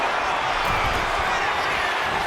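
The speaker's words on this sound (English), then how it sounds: "when you can't hear yourself think because the crowd's so loud" Loud, dense roar of an arena crowd in the wrestling video game WWE 2K25, a constant wall of cheering noise with no breaks, filling the whole short stretch.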